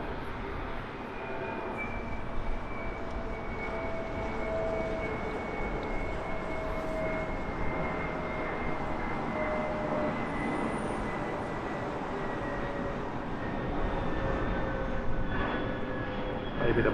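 Airliner passing overhead at Heathrow Airport, a sustained broad engine roar with a faint whine, steady and moderately distant, swelling slightly toward the end.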